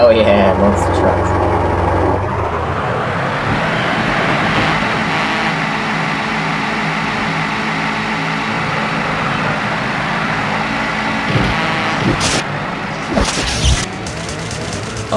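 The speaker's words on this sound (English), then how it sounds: "Oh, hell yeah, monster trucks" Monster truck engines drone steadily in a PS1 racing game demo, a continuous rumbling motor roar with occasional revving and clattering bumps, while someone talks over it.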